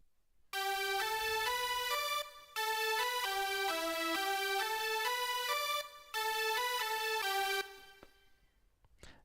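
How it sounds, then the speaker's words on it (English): A really distorted synthesizer patch in MainStage plays a buzzy, bright melodic line of sustained notes in three long phrases with short gaps, loud and alone, ending on a fading tail. "The first one is just a really distorted synthesizer sound"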